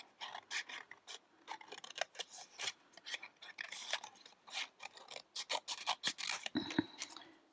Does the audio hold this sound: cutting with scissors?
yes